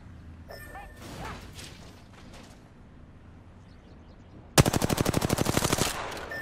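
Rapid automatic gunfire from the Apex Legends video game bursts in loudly near the end, a fast even string of about a dozen close shots after quieter game ambience with faint movement sounds.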